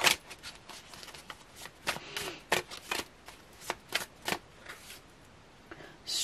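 Tarot cards are shuffled and drawn, giving a string of quick, crisp riffling snaps and flicks that come close up and fairly quiet, with uneven rhythm and no talking.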